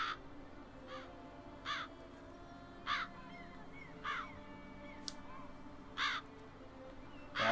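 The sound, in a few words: crows cawing in the video game The Witcher 3: Wild Hunt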